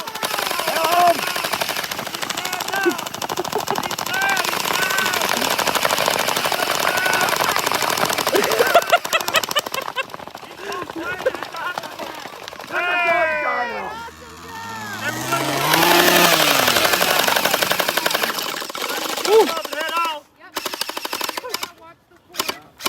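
Paintball markers fire in rapid bursts during a Halloween monster-hunt paintball game at Steeltown Paintball in Pittsburgh, mixed with shouting voices and a passing engine-like drone.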